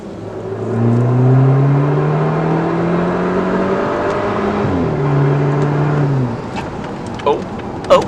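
A VW MK7 Golf with its rear muffler deleted and custom quad tips revs up and holds a loud, droning exhaust note heard from inside with the windows up, then drops and settles before a few brief clunks.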